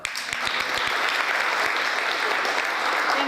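An audience at a Korean consulate networking evening in Atlanta breaks into applause, a sustained crowd clapping that starts with a few distinct claps and quickly swells to a steady, moderately loud roar.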